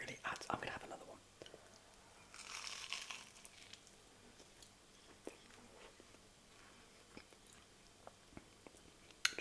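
Crunchy chewing of a festive sandwich of salty bacon, sweet cranberry sauce and slightly over-toasted bread, heard as close, quiet bursts of crunching and small clicks, with soft whispering around them.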